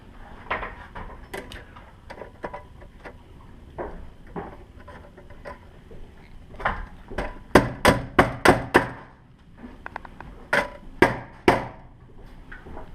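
A hammer drives a nail during a lighting installation, with scattered light taps followed by a run of loud, sharp blows in quick succession, then a few more strikes.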